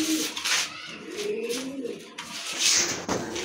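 Male pigeons cooing close by, several soft, rolling coos rising and falling over a few seconds, with brief rustles between them.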